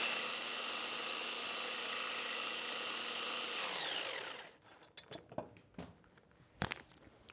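Electric mixer whipping egg whites with a pinch of salt into stiff peaks, a steady loud motor whir that winds down and stops after about four seconds, followed by scattered clinks and knocks of bowl and beaters.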